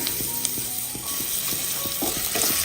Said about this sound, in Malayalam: എണ്ണ ഒന്ന് ചൂടാതിന് ശേഷം 10 ചെറിയ ഉള്ളി ചെറുതായിട്ട് കട്ട് ചെയ്ത് ചേർത്ത് കൊടുക്കാം.